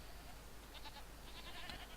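Goats bleat faintly a few times in the video game Jade Empire, short wavering calls over a steady ambient game background.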